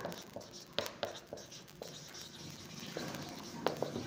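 Chalk or marker writing on a board in a lecture hall, heard as scratchy strokes with sharp taps, steady and close, under room noise.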